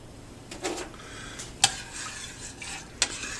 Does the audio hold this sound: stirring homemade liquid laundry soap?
yes